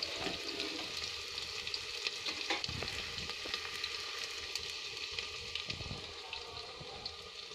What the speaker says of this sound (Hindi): तब तक हम प्याज को भून लेंगे।